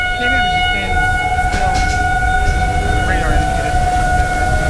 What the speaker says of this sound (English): with the tornado sirens going off